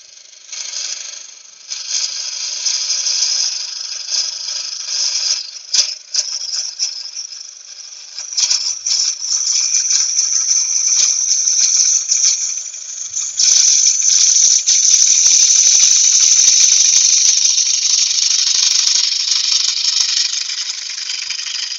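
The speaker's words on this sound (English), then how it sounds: "I'll just do one final cut with my 1/4 inch bowl gouge." A 1/4 inch bowl gouge takes a final cut on an ash bowl spinning on a wood lathe, giving a steady, loud high-pitched hiss and rattle of shaving that runs nearly continuously, with a few brief dips.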